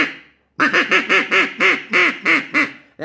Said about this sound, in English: grasp it like you would grab any normal duck call, and go ahead and try to call on it